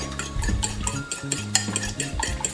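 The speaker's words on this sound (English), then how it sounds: "So we are going to break the egg, beat the egg" An egg is beaten in a bowl for gluten-free butternut squash soup. Quick, rhythmic utensil strokes clink against the bowl, close and steady, with no talking.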